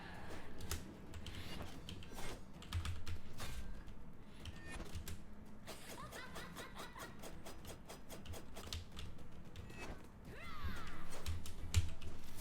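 Computer keyboard keys clatter during keyboard-only play of the video game Death's Gambit: Afterlife. Rapid, close, uneven key presses run steadily for about twelve seconds, with a louder burst near the end.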